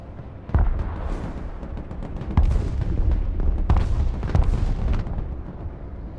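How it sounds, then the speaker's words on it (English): Artillery fire in the modern warfare strategy game Broken Arrow, several heavy booming impacts at irregular intervals with rumbling between, loud and close, no voices. "They walked right into the artillery."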